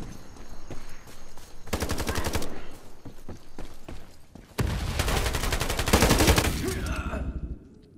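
Bursts of rapid automatic gunfire in the video game Ironsight, two long volleys with scattered single shots between, loud and close, with game-like sound effects.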